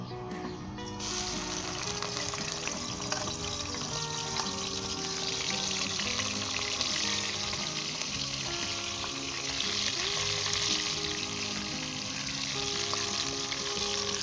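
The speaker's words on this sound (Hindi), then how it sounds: "प्याज को फ्राई करेंगे।" Onions frying in about four tablespoons of oil over full high heat for a chicken curry, a steady, close sizzle that runs loud and unbroken throughout.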